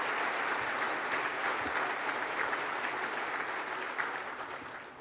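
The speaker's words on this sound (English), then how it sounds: "let's give our military a round of applause" Dense, steady applause from a large audience honoring military guests at Portsmouth, Virginia's State of the City event at the Renaissance, continuous throughout and tapering slightly at the end.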